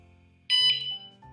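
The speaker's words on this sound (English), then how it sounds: "you get that one beep and the flash of the light, and that tells us the unit is actually ready for setting up" Vanolarm Lite siren unit giving a single loud, high-pitched power-on beep that sounds once, holds for about half a second with a brief tail, and stands alone over low background hum.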